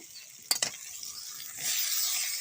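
Onion with ground spice paste frying in hot oil in a pan, a soft steady sizzle that swells louder partway through, with a couple of sharp clatters near the start.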